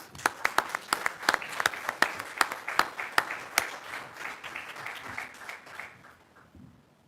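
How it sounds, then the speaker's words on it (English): Audience applause at a county plan commission meeting, a dense patter of many hands with sharper individual claps standing out, steady for several seconds before tapering off near the end. "one more round of applause"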